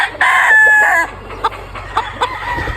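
A Boston Cross gamefowl rooster on a farm crows once, loud and close, followed by a few short clucks, with no voices.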